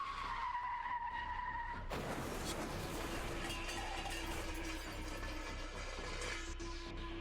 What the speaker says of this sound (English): another set of sort of squealing, screeching tires